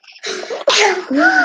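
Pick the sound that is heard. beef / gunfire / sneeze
sneeze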